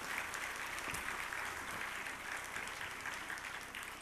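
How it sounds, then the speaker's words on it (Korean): A church congregation gives a warm round of applause during a Korean evening worship service; many hands clap in a steady, dense roar that holds level throughout, with no voices on top. "뜨거운 박수로 하나님께 감사와 영광을 돌립시다."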